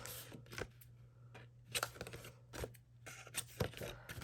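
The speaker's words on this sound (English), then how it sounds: "And then cut our corners out." Scissors snip through paper folio card, cutting the corners out diagonally where score lines cross; several separate crisp cuts at a steady, close pace over a quiet background hum.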